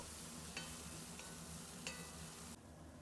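Herbs frying in a pan with onion while being stirred, a steady close sizzle with a few soft scrapes and taps of the spoon, then the hiss drops away near the end, with no voices.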